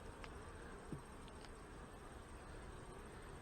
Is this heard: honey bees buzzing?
yes